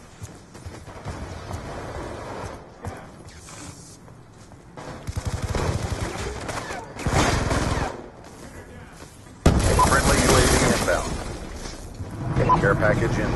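Rapid bursts of automatic gunfire and explosions from a Call of Duty match, loud and dense, coming in waves with heavy stretches around the middle and end, while players talk and shout over the shooting.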